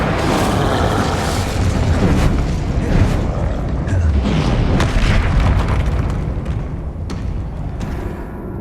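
Spell effects from Hogwarts Legacy, Repulsor and Incendio cast in combat, make a loud continuous rumble of booming blasts, fiery bursts and thuds, dense and sustained throughout with no pauses.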